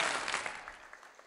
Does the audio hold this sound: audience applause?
yes